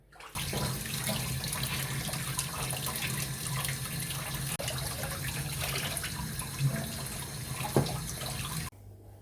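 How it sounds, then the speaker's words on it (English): Steady stream of running water washing a Honda motorcycle windshield, a continuous close splash and gurgle from start to end with a few louder sloshes. "let's give it a good wash"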